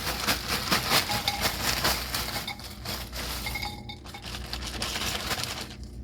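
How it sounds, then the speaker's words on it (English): Raw potatoes tumbled into a sprayed crock pot make a rapid, dense clatter of hard knocks and clinks against the ceramic. The sound is loud and continuous for several seconds, then thins out toward the end. "Dump your potatoes in there."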